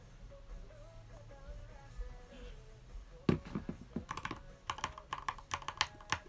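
Keystrokes on a keyboard with Gateron yellow linear switches: faint quiet taps at first, then a quick run of sharper, louder presses clattering in uneven bursts.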